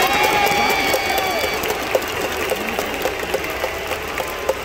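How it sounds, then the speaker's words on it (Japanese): A large baseball stadium crowd roars and cheers after a walk-off hit in a Hanshin Tigers game, a steady, loud wash of noise with a few sharp claps and a brief whistle-like tone early on. "大山さん、サヨナラを決めてチームメイトから水をかけられて大歓声です。"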